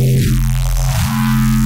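Synth bass with Snap Heap stereo processing, a thick sustained low tone with a gliding filter sweep that dips and rises, loud and continuous throughout with no talking.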